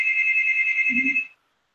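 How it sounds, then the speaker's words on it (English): A doorbell rings indoors as a steady electronic tone held for just over a second before stopping abruptly, with a brief low murmur underneath. "Yeah, that's the doorbell."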